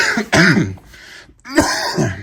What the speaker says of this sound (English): Told you I'd be coughing.